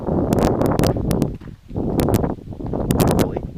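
Strong outdoor wind buffets the microphone in loud, continuous low rumbling gusts that surge and briefly dip midway, with faint rustling and a voice talking beneath it.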